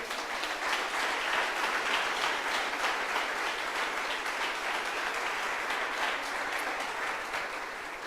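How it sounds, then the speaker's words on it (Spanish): Inside a church, the congregation gives a strong, sustained round of applause, a thick wash of clapping that holds steady and fades slightly at the end. "Dele un fuerte aplauso al Señor."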